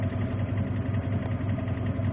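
An old engine that sat for years idles while warming up, a steady, rough, even-paced running drone heard up close with no talk over it.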